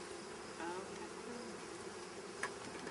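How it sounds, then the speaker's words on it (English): Honeybees buzz inside a hive with a steady, low-level hum, many wings droning together, with a couple of brief louder passes near the microphone. "Now you see a lot of black bees in there"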